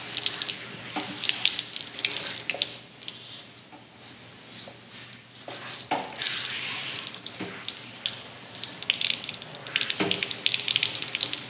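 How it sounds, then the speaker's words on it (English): A water hose rinsing soap off a leather saddle outdoors, steady spraying and splashing with shifting intensity as the stream moves across the surface, loud and close throughout with no talking. "go ahead and just rinse all that soap off"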